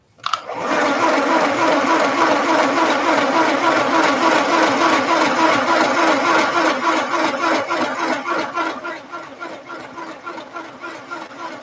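A sewing machine runs a straight stitch down the middle of denim, its needle chattering in a fast, steady rhythm close and loud for about ten seconds before slowing slightly toward the end.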